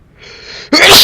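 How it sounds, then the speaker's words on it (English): A single close, loud sneeze: a short quiet in-breath and then an explosive, breathy burst that ends the clip. "Oh, sorry. I sneezed."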